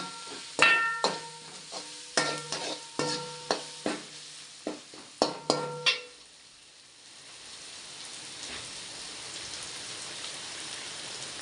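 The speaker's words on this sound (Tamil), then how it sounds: "அந்த இஞ்சி பூண்டு நல்ல வாசனை வர வரைக்கும் நம்ம கிண்டிகிட்டே இருக்கணும்" Ginger and garlic are stirred in a pan for a mutton dish: a quick series of sharp metallic clinks from the utensil, then a soft, even sizzle that carries on alone.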